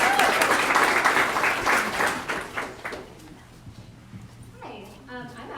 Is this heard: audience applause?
yes